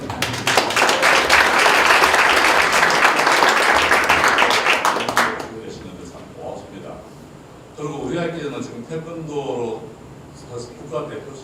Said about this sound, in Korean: 박수도 한번 쳐주세요